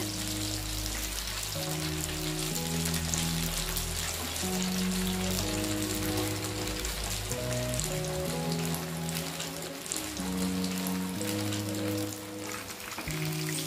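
Green chicken 65 deep-frying in hot oil makes a dense, even crackling sizzle like rain, steady and close throughout, with no talking.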